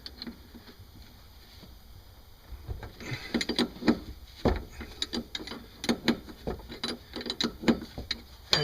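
A 15mm wrench working loose the rear shock nut on a Mustang: metallic ratcheting clicks in irregular bursts, close and moderately loud after a quiet start.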